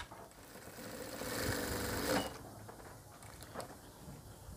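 Sewing machine stitching a label onto a large ladies jacket, a steady mechanical whir that swells to a peak near the middle then drops to a quieter running hum, heard alone without talk.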